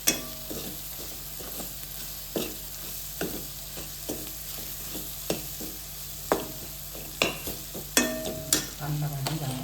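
A pan of mushroom curry with garam masala is stir-fried, a low sizzle running under sharp, irregular scrapes and knocks of a spoon against the pan, with no one talking.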